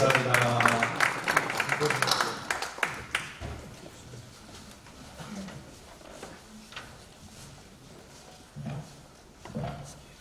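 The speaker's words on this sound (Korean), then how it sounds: "우리 박수로 환영하도록 하겠습니다" Applause from a forum audience welcoming two speakers onto the stage. It is loudest in the first three seconds, then fades into scattered claps and murmured voices across the room.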